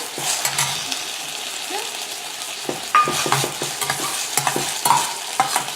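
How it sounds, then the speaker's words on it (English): Mint sautés in masala in a pan for a ragi mint-masala paratha, giving a gentle close sizzle with intermittent scraping and clicking from a spatula stirring, and no speech. "I'm just going to put my mint a little bit, just not enough to boil it, but just to saute it to get it very well combined."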